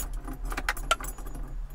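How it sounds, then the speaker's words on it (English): A bunch of spare keys for a VW Rabbit pickup jangles in a hand, bright metallic clinks in quick irregular bursts, close up over a low background hum. "Got a few extra keys for this thing."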